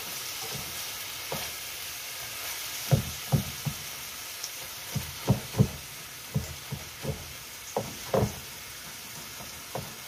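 Meat for lumpia filling fries in a pan with a low steady sizzle, punctuated by a run of spatula knocks and scrapes that cluster in the middle stretch.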